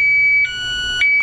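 A Spy 5000m alarm on a 2008 Honda Goldwing GL1800 motorcycle, set off by its shock sensor, sounds a loud, steady electronic tone that briefly dips partway through before resuming.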